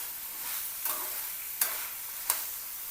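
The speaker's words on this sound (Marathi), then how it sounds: "बटाटे परतून घ्यायचं। बटाटे आणि अख्खा मसूर" Potatoes and whole masoor lentils sauté in a pan, a soft steady sizzle with three quick stirring scrapes at regular intervals, fairly quiet and close.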